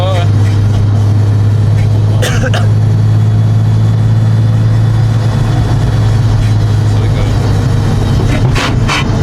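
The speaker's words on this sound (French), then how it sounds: "la voiture commence à faire beaucoup de bruit à 3000 tours" A Nissan 350Z sports car engine drones loudly at a constant pitch around 3000 rpm, with people talking over the cabin noise throughout.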